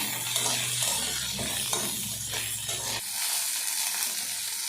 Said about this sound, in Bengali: সেই জন্য আমি শসা শুদ্ধ ভেজে নিচ্ছি